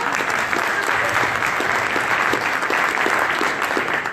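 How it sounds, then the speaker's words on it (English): A dense, steady roar of audience applause fills a crypto currency event hall in London, many hands clapping continuously and loudly throughout with no break. "if you want to give her a round of applause as well"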